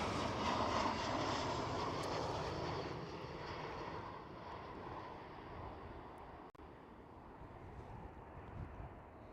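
A Transavia Boeing 737-800 at Amsterdam Schiphol produces a sustained, wide jet engine roar that is loudest at first and gradually eases off, steady and unbroken with no talking.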